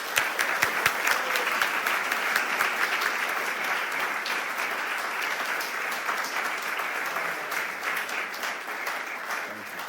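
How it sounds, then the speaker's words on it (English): Audience applause at a nonprofit and philanthropy summit award presentation as an award recipient comes up, a full, steady roar of many hands clapping throughout, loud and sustained without talk. "Let's give another round of applause to both of our awardees."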